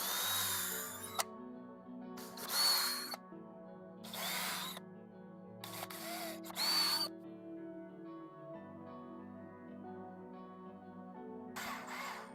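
A power drill drives screws to mount hexagon workshop panels on a wall, sounding in four short whirring bursts followed by a final burst after a pause, each rising in pitch under a quiet background hum.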